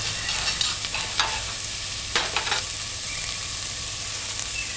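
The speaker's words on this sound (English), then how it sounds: "Allow it to saute" Vegetables sizzle steadily in a hot pan for a bok choy stew, a close, continuous frying hiss with a few scraping stirs of a utensil breaking through.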